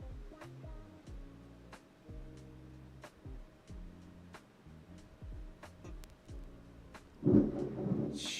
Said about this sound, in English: Can you guys hear that thunder?